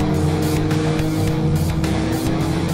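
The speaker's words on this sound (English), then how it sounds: "hit 300 miles per hour in his modified Mazda RX-7 with its 900 horsepower engine" A modified 900-horsepower Mazda RX-7 race car engine roars loudly and steadily as it accelerates, with a pulsing, high-revving drone throughout.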